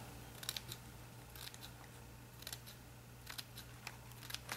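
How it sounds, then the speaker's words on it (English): Scissors snip through feather plumes in short, crisp bursts, with several quick cuts clustered in a loose rhythm and quiet pauses between them, close and faint, with no talking. "you cut it almost to the middle, and just keep cutting"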